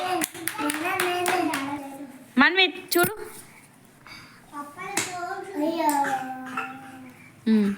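Children clapping their hands during a colour-matching activity, a short burst of claps mixed in with an adult and kids talking over it.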